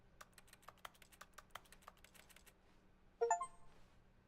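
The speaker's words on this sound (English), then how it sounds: "If you press the mouse button, it makes a clicking, like a keyboard clicking noise." Rapid, crisp clicks like keyboard typing come from the mouse button in The Stanley Parable: Ultra Deluxe, a steady run of close, fairly quiet taps for about two and a half seconds, followed by a short, brighter burst of electronic tones.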